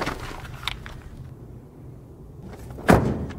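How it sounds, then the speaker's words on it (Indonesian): A door is shut in a film scene: a short muffled rattle, a stretch of quiet interior hush, then one solid close thud near the end. "Setelah menutup pintu"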